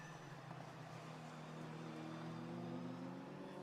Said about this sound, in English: So we've got the number 100 car of Gary Hayward, the AP Tuning Mitsubishi Evo 7 ahead of Phil Reed's car, ahead of Paul Doyle's BC Racing Subaru Impreza